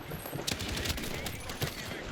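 A rapid burst of weapon fire from a bloop cannon in a first-person shooter game, with sharp repeated cracks over a steady, noisy game background.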